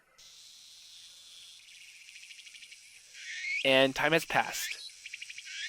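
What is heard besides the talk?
cicadas chirping in the video game If My Heart Had Wings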